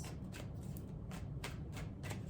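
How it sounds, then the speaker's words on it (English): A deck of tarot cards is shuffled by hand up close, soft riffling swishes repeating in a loose rhythm with no talking. "I could just keep shuffling."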